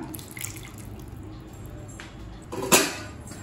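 Water splashes and trickles quietly into a pan in short bursts while making Chidambaram brinjal gothsu, ending with a brief louder pour near the close.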